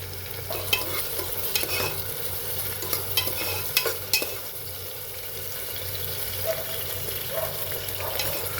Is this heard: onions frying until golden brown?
yes